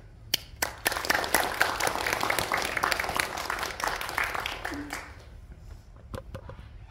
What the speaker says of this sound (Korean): 잠깐 인사할 때 환영의 박수 부탁드립니다.